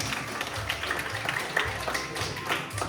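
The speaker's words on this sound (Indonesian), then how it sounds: "Kita tepuk tangan untuk kita semua." Children clap their hands together in a school class on disaster preparedness, a scattered, uneven patter of small taps with light voices in the background.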